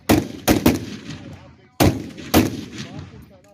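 Gunfire at an international border, five sharp shots in two clusters: three quick reports, then a pause and two more, each loud and close with a ringing decay between.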